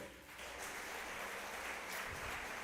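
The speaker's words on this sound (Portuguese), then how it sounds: "Você pode aplaudir o Senhor?" Church congregation clapping, a dense, continuous burst of applause that swells slightly and holds at an even level for a few seconds.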